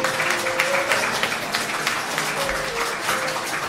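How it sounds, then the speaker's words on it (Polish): Steady crowd applause at a school jazz concert in Dobre Miasto, Poland, fills the clip, dense and continuous clapping from a sizable audience with some faint background tones. "brawa."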